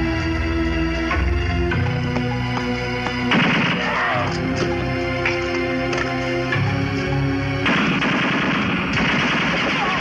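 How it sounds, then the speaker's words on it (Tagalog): Gunfire in an indoor shootout from behind a filing cabinet in a Tagalog action film: rapid, loud bursts of automatic fire and scattered shots over a musical score. "Nagmumula ang putok sa likod ng filing cabinet."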